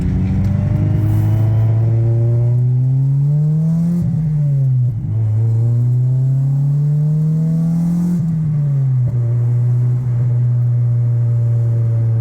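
Wrecked Acura Integra with an LS B18 engine driven up a road: a loud, close, steady engine drone that rises and falls through repeated gear changes for about twelve seconds, with no talk.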